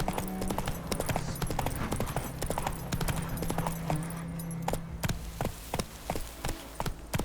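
Horse hooves clip-clop at a steady trotting rhythm in The Witcher 3 Wild Hunt, a close, continuous run of sharp knocks over a low droning game ambience.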